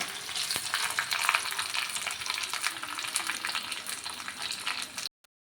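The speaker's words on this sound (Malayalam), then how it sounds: "എണ്ണ വെച്ച് കുറച്ച് മുന്തിരി, കുറച്ച് അണ്ടിപ്പരിപ്പ് ഒന്ന് മൂത്തോട്ടെ." Raisins and cashews frying in hot oil, a loud, close, steady sizzle with crackles and occasional stirring that stops abruptly at the end.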